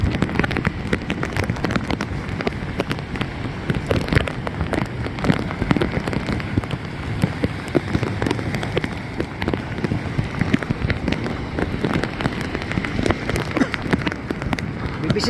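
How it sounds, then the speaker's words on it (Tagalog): Heavy rain pelts surfaces steadily during a typhoon on the shore at Barangay Bucana, with gusting wind shifting through it; the downpour is dense and close, a constant hiss with scattered louder drops throughout. "Papihit-pihit na yung hangin. Sana naman lumihis yung bagyo."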